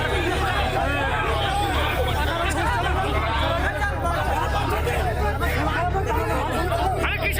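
A chaotic crowd fills a street in a dense, continuous babble of many overlapping voices, loud and close throughout, with shouting people and faint traffic beneath.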